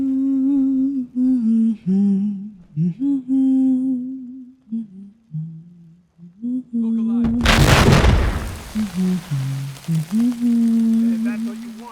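Turret gunfire erupts in the Fallout 4 video game as one loud, sharp burst with a rumbling, crackling tail midway through, with someone talking before and after it.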